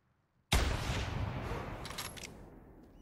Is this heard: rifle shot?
yes